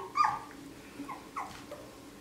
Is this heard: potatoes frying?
no